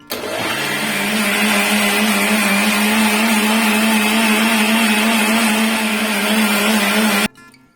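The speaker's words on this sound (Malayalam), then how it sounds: "ഇനി നമുക്ക് മിക്സി അടച്ചിട്ട് അടിക്കാം." A mixer grinder whirs loudly and steadily while blending rava cake batter with butterscotch flavouring in its closed jar. The motor spins up sharply, holds an even high-pitched drone for about seven seconds, then cuts off abruptly.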